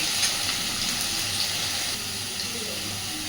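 Potatoes frying in hot oil for ghugni, a continuous bright sizzle and hiss at steady moderate loudness, close by, with no talking.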